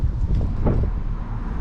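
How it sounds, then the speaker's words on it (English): Gusty wind blows steadily against the microphone outdoors, a continuous low rumbling buffet with a brief stronger gust near the middle, no voices. "bit windy today"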